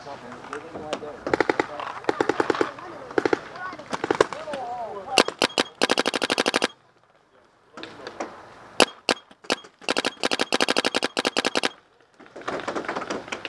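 Paintball markers firing in rapid strings of sharp cracks during a tournament-style game in Tampa, loud bursts with brief pauses between, while players shout over the shooting.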